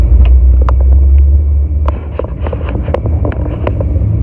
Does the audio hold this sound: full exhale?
no